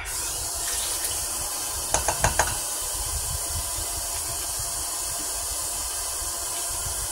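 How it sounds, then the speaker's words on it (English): Cold water being poured from a measuring cup into a pot for chicken Alfredo, a steady rushing hiss throughout with a few brief clinks partway through, close and continuous. "I'm putting 2 cups of cold water in"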